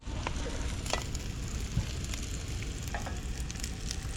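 Street-side frying in coconut oil, a steady soft sizzle with faint clinks and scrapes of stirring, fairly quiet and without talk.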